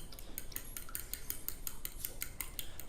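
Eggs being whisked smooth in a bowl for an omelet with cheese and ham, a steady run of quick, light clinking taps of utensil against dish, close and fairly quiet, with no talking.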